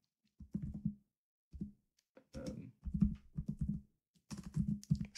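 Typing on a computer keyboard comes in short bursts of rapid close key clicks separated by brief pauses, clear and dry with no talk.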